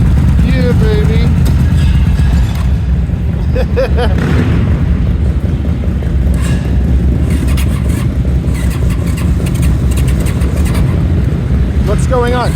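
A motorcycle that has sat unused since summer starting up and revving at a busy indoor motorcycle show, a loud continuous engine roar with pops, while people talk nearby.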